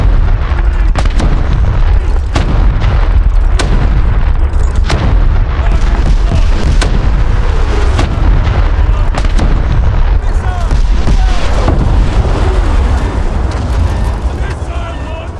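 Naval shells and missiles strike a target in a rapid barrage of loud booms and sharp cracks, dense and overlapping throughout, with a heavy low rumble underneath, fading slightly at the end.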